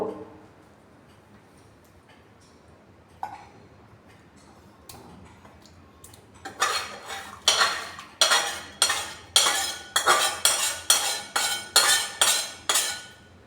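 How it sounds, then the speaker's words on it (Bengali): Egg curry is transferred from a pan into a serving dish, heard as a regular series of sharp metallic scrapes and clinks of a spoon against the pan, starting quietly and then repeating loud and close, no talk. "আমি এখন এটা পাত্রে ঢেলে নেব।"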